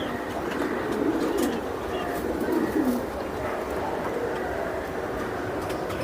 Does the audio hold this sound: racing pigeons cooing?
yes